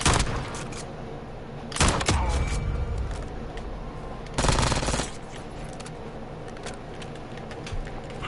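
Bursts of rapid automatic gunfire from the video game Warzone, loud and close, with heavier volleys punctuating a constant rattle of shots.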